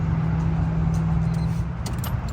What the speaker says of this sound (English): I'm going to go ahead and crank the car up.